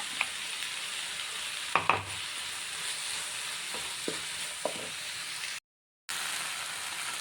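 Ground coconut paste drops into a hot pan of tomatoes for an anchovy meen peera, giving a steady, soft sizzle with a brief thud and a few faint clinks of a utensil.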